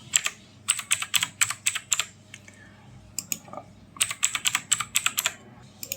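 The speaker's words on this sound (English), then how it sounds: "Then you type a password." Keys clatter on a computer keyboard as a password is typed, coming in quick bursts of close, crisp clicks separated by short pauses, with no talking.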